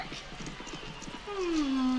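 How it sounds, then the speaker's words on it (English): A horse in the Baldur's Gate: Siege of Dragonspear video game clops its hooves in a quick rhythm, then lets out a loud, drawn-out neigh near the end over faint background ambience. "Horse."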